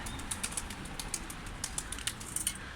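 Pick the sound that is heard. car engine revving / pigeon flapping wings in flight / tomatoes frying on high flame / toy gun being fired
pigeon flapping wings in flight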